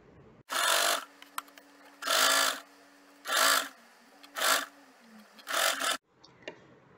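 Sewing machine stitching a shirt cuff layer over buckram: five short bursts of close, whirring motor-driven stitching separated by brief pauses, with no talk.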